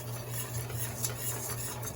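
Whisk scraping steadily through tomato gravy in a pot, a continuous close rasping stir with no talk.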